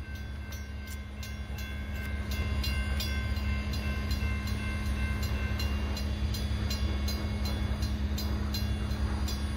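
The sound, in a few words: Norfolk Southern freight train passing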